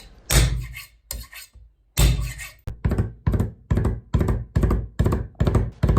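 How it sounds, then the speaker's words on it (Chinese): Garlic cloves flattened and minced with a kitchen knife on a board: a few loud, uneven smashing blows, then a quick regular run of close, solid chopping thuds. "大蒜同样用刀拍匀剁碎"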